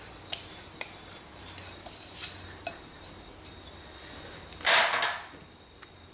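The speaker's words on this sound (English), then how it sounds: "Now I use a fork at the beginning just to stir the middle, get some of that flour mixture through there" Fork clinking lightly against a bowl while stirring risen yeast mixture into flour for pizza dough, with scattered soft taps and one louder scraping burst near the end, no talking.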